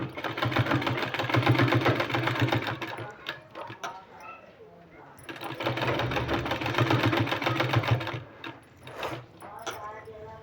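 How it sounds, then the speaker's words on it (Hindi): Sewing machine stitching a sleeve, two loud bursts of rapid mechanical whirring and clatter separated by a quieter pause with a brief voice. "इसी तरह से कंप्लीट करना है सिलाई लगा के।"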